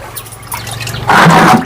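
Water is poured from a mug while diluting liquid jeevamrutham, a homemade organic plant fertilizer, heard as a short, loud gush of liquid splashing after a quieter lead-in.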